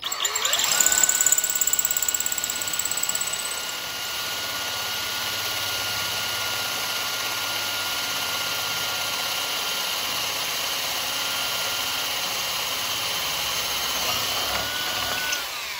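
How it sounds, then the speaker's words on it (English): A drill press bores a hole for a woodturning tool-sharpening setup, its motor whining steadily for about fifteen seconds with a bright high tone and constant hum, slightly louder at the start, no talking. "Now, you can do this all on your drill press if you've got a drill press."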